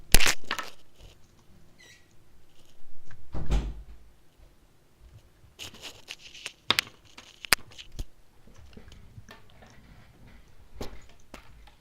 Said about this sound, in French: attendez, je ferme ma porte parce qu'il y a mon frère qui est rentré